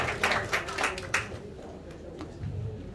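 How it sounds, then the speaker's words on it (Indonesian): A congregation at a church wake service claps together, producing a dense burst of applause that fades off over a few seconds. "Oke, beri tepuk tangan kepada Tuhan."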